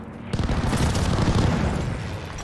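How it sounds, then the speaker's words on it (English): Airstrike explosion in the World War II shooter Call of Duty Vanguard, a sudden loud, heavy boom that bursts in and rolls on as a dense, sustained roar of blasts and debris. "Friendly sending an airstrike."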